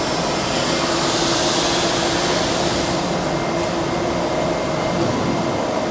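A Sunrise 1228 flexo folder gluer box-making machine runs with a blower motor blowing down on incoming boxes, making a loud, steady industrial roar and hiss that continues without a break.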